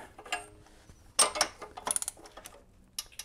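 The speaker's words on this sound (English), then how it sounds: "We're going to use our electric ratchet." An electric ratchet works loose a spark plug on a 2006 EZ-GO TXT gas golf cart, giving short close bursts of mechanical clicking and whirring with brief pauses between.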